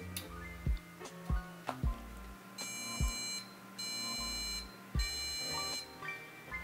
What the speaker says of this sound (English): So that was 3 beeps, and then it turned off.